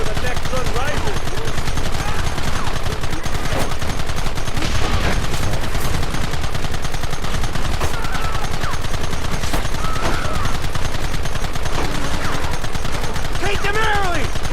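Gunfire in the video game Red Dead Redemption, a loud, dense volley of rapid shots with repeated bursts, mixed with shouting voices.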